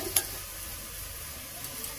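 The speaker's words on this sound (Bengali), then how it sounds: "তো চলো এবার পেঁয়াজটা লাল করে ভাজা হোক।" Onions frying in a pan, a steady bright sizzle with a brief scrape of stirring near the start, close and continuous.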